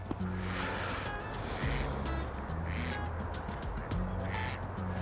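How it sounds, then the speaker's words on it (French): Ducks quack in repeated harsh bursts at a moderate distance by the water in winter, over a continuous outdoor background hum. "Au moins, il y a des canards."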